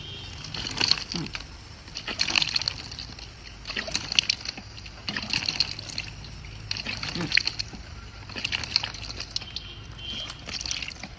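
A face is washed with soap and water in repeated bursts of splashing and sloshing, close and fairly loud, each wet scrub separated by short pauses.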